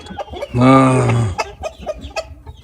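A karis-breed rooster gives one loud, close crow lasting just under a second, followed by short clucks and soft murmurs.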